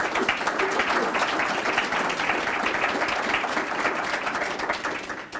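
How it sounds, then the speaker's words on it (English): Audience applause at a Prince George's County FY 2015 proposed budget presentation, a steady dense wash of clapping that holds at an even level for about five seconds before tapering slightly at the end. "If we can give them a round of applause, please"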